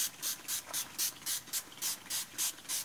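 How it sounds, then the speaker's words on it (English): Hand spray bottle misting water onto paints, about ten quick evenly spaced hissing bursts in a steady rhythm, close and fairly quiet. "we need a little bit of spray water so that you can paint"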